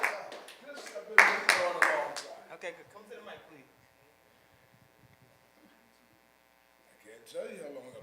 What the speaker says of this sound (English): Let's clap you up.